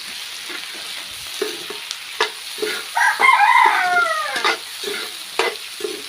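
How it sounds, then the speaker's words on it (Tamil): Onion, tomato and tamarind fry in oil in a home kitchen with a steady close sizzle and scraping stir strokes, while a rooster crows clearly in the background partway through. "நல்லா எண்ணெயிலே வதங்கட்டும் வெங்காயம் தக்காளி"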